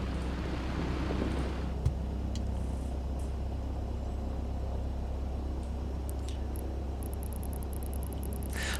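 Steady low drone of a Piper Arrow III's piston engine held around 1000 RPM in Microsoft Flight Simulator 2024, a constant hum heard alone with a brief soft click early on.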